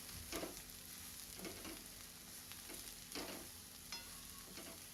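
Cabbage, carrot and capsicum are sautéed in a pan for a bread vada filling, with a faint steady sizzle broken by repeated stirring scrapes about once a second.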